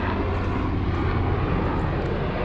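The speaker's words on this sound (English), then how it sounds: "all of the helicopters always fly over and it's loud as shit" A loud, steady helicopter roar passing overhead near a Marine airfield, a continuous rumbling drone that fills the space without pause.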